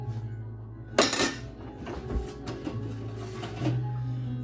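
Cutlery including a spoon is scrubbed and washed by hand in a sink, with clinking metal against dishes and rough scrubbing strokes, close up over a steady low background hum.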